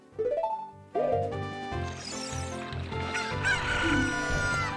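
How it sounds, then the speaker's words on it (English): A rooster crows in a video game, with one short call followed by a longer, louder cock-a-doodle-doo and some clucking, bright and close over the game's background sound. "Look at that, we got a chicken."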